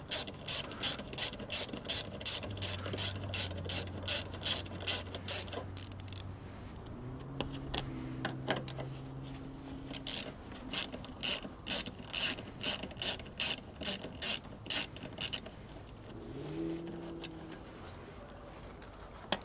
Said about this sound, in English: we can go ahead and take these two nuts off